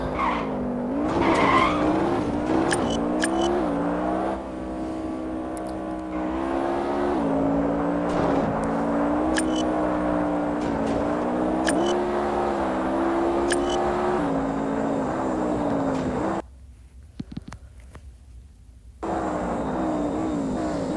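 A car in the Extreme Car Driving Simulator video game roars at high speed across an open airport area, its engine droning loudly and rising and falling in pitch through gear changes, with a brief drop in sound before the engine returns.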